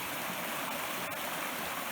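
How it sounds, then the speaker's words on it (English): Steady broadband rush of a creek flowing beside a backcountry campsite on a solo backpacking trip in the foothills, a continuous close wash of water with no voices. "we made it to Bear Claw Creek"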